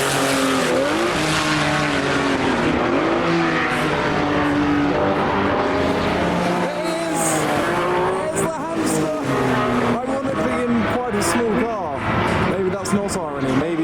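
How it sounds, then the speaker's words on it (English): An Austin Healey 3000 race car lapping the Silverstone circuit in qualifying, its engine note rising and falling as it passes through gears, with tire noise, under near-constant commentary from a spectator. "try and find Richard Hammond in an Austin Healey 3000 qualifying around the circuit"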